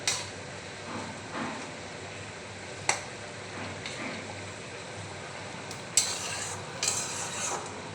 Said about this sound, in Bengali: এবার আমি মাছগুলো দিয়ে দেবো, দিয়ে একটু ফুটুক।